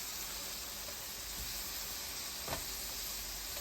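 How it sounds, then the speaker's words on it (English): Burger buns toasting in butter on an indoor griddle, a faint steady sizzle and hiss with a couple of soft clicks, quiet and without talk. "Just take a little butter. We're going to start toasting our buns."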